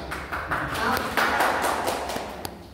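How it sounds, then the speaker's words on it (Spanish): A class or audience gives a short round of applause, quick overlapping claps at moderate distance blending with murmured talk throughout. "Muy bien, un aplauso"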